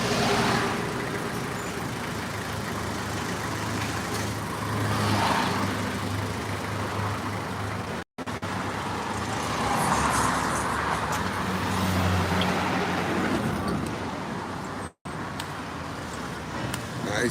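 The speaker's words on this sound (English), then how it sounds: "Traffic going by." Street traffic flows past on a road near the St. James Medical Complex in Trinidad, cars and heavier vehicles rumbling by continuously, with passes swelling and fading close to the listener throughout.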